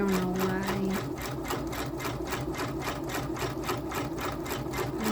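A Janome MB4 or MB7 embroidery sewing machine runs slowly and steadily, its needle stitching in an even, repetitive rhythm with a mechanical whir, close and continuous throughout.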